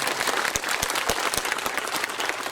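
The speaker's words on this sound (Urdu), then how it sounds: "میں آپ سے اپیل کروں گا کہ زوردار تالیاں بجا" An audience at a religious gathering breaks into dense, sustained applause, crowded clapping filling the whole stretch with no voices over it.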